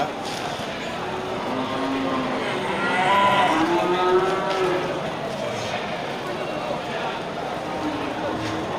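Several low moos from Aceh cattle, including a small cow, rise and fall over a noisy outdoor background, with people talking nearby throughout.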